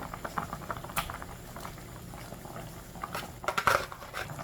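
Kimchi stew with tofu and green onion simmers in a pot, giving a soft, steady bubbling patter with a few louder pops and bursts near the end, close and fairly quiet with no talking.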